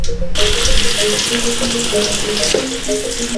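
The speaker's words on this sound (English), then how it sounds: "The oil is hot enough, let's add the shallot." Shallots hit hot oil and fry with a loud, continuous sizzle and crackle, close and alone, steady from start to finish.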